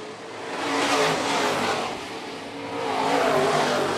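Modified race cars roar through corners three and four at Phillips County Raceway, a dense, continuous engine drone that swells and fades as the pack passes, loud and steady throughout.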